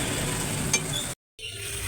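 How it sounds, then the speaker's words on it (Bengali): Spices fry in oil for a rohu fish kalia with a steady, close sizzle and a single light clink, broken by a brief moment of silence near the end. "এখন এগুলো তেলে আমি 2-3 মিনিট ভাজবো"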